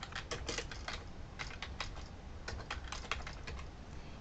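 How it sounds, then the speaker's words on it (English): Typing on a computer keyboard into a database search box, a quick run of close, crisp key clicks with short pauses and no talk. "So I'm just going to start typing in career counseling"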